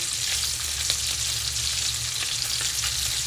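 Kielbasa sausages sizzle and crackle steadily in very hot grease in a frying pan, a loud, dense, continuous frying hiss with small pops, close up and without talk.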